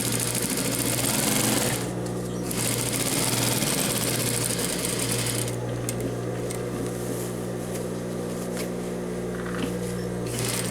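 A sewing machine stitches the lining of a men's vest with a steady mechanical whir, pausing briefly near the start, then running continuously and close at moderate volume.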